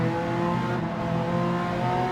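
Race cars in Gran Turismo 7 during a GT2 endurance race, engines droning steadily and loudly with a dense layered roar as they brake hard into turn 1, no talk over it.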